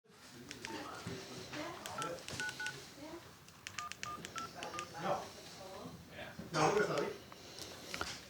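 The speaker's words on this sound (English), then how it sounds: "This is our emergency phone, just for when we get stuck in the river." Emergency phone being dialed, with a run of short beeping tones in bursts, fairly faint amid people talking and room noise.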